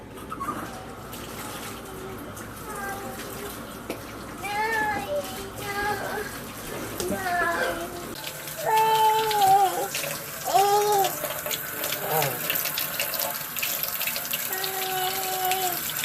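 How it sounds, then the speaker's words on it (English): Tap water runs steadily into a sink while hands are washed, with a child's and an adult's voices talking over the flow. "Wash your hands."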